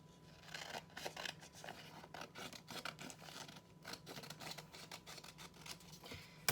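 Scissors snip through a sheet of origami paper, trimming a creased strip off to leave a square; a run of quick, close, crisp cuts and paper rustles with no talking.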